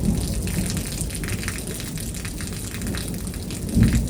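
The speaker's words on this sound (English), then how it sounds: "It's just massive thunderstorms and lightning, and it was just a torrential downpour." Torrential rain pours down during a thunderstorm, a dense, steady hiss of heavy rainfall with a low rumble swelling near the end, no voices present.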